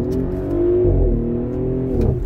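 An Audi SQ5 revving and accelerating hard on a test drive, heard from inside the car as a loud, rising engine note that eases and then climbs again.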